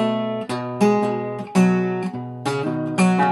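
Acoustic guitar slowly plays measure 59 of a song, a low E3 bass note ringing under plucked melody notes and chords, about six attacks, close and alone without talk.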